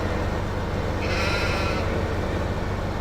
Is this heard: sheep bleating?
yes